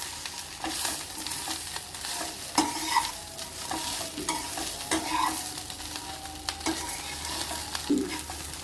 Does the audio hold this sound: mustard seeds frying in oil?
yes